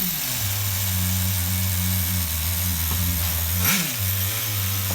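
Nitro engine of an HPI RS4 Nitro F150 RC truck running on a bench tune, a steady buzzing drone that shifts pitch near four seconds as it snaps into second gear, close and continuous with no talk.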